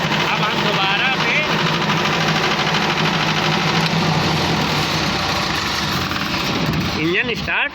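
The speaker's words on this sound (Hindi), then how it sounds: "इंजन स्टार्ट हो गया।" An engine in a fail-to-start check, run after battery-positive wiring is touched on, rumbles loudly and steadily throughout, then cuts off abruptly near the end.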